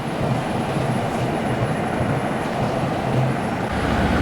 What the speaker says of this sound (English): Just the trailer making noise.